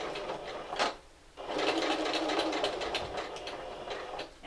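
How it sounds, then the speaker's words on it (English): A sewing machine back stitches down a fabric seam: a short burst of stitching, a pause, then a longer steady run of rapid needle clatter, close up. "And just sew all the way down"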